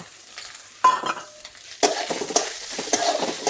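Prawns fry in a pan, giving a quiet sizzle broken by sharp stirring scrapes and bursts of louder spitting, near and without talk.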